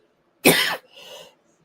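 A single sharp, close cough bursts out, followed by a softer, breathy throat-clearing rasp, then silence.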